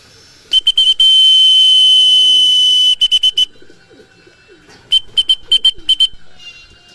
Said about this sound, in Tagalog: Ayan, pa isa-isa na yung uwi ng ibon.